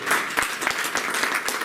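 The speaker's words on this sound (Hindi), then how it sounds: "जोरदार तालियां दोनों साथियों के लिए।" Sustained applause for two retiring colleagues at an office farewell gathering: a dense, steady wash of many hands clapping close by, with scattered sharper claps standing out, filling the whole short stretch without talk.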